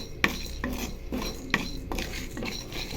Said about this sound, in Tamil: கைவிடாமல் நீங்கள் வறுத்துக்கிட்டே இருங்க.